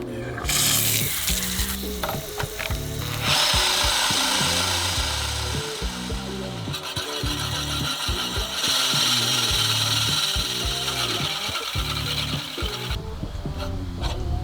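A reel mower being lapped with grinding paste makes a continuous rapid ratcheting, gritty whir, with loud close metallic rasping that swells and eases in surges and no talk over it.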